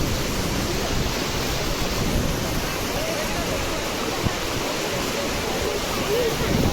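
Flooded river rushing at Sakra Ghat near Kawardha, Chhattisgarh: a loud, steady broadband roar of high water that stays constant throughout, with a voice talking faintly over it.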